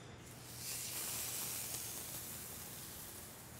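A thin steak sears in hot oil in a cast iron skillet, a steady close sizzle and hiss that swells briefly and holds at a moderate level.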